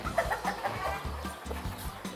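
Fancy hens and roosters at a large farm in Karachi cluck and call in quick, repeated bursts, fairly quiet and close, with no talking over them.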